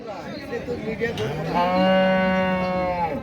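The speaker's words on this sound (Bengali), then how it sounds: "এই যে দেখতে পাচ্ছেন আরও হরেক রকমের মাংসের গরু" Beef cattle moo loudly at a busy cattle market, one long drawn-out low call rising and holding for over a second, close by, with crowd chatter and bustle in the background.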